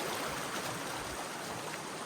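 A river flowing beside a snowy lakeside wild-camping spot, heard as a steady, continuous broadband rush of moving water, fairly soft and unbroken with no talking.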